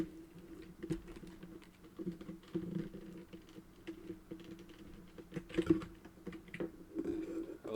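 Typing on a computer keyboard, a quiet, close patter of uneven keystrokes with scattered louder clacks, carrying on alone without speech.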